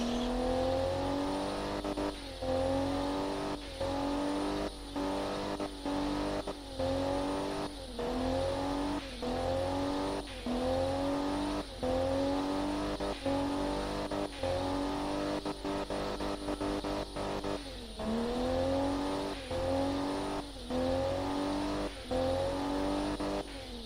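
A boosted video-game car engine revs through repeated rising sweeps as it climbs through the gears, each pull ending in a quick drop before the next. It runs loud and steady throughout with no talk.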